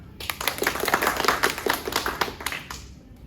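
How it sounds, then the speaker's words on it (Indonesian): A high school class claps together, a dense patter of many hands in a room lasting about three seconds before tapering off, with no talking. "boleh tepuk tangan"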